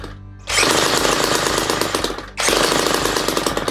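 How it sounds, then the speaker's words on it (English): A drill turns over a motorized bicycle's small engine in two loud, rapid, chattering bursts with a brief break between them, harsh and close with no voices. "Swati realized that he's been turning the drill in the wrong direction."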